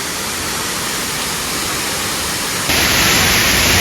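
A powerful, full waterfall at Curug Cikondang in southern Cianjur roars as a dense, unbroken wash of noise, close and loud, growing even louder and brighter partway through.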